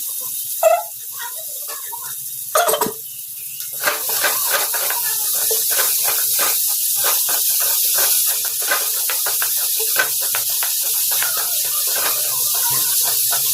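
Onions fry in a hot pan with a loud, steady sizzle and hiss. Scattered crackles and pops run throughout, and a few sharp clatters come near the start as the onions are stirred.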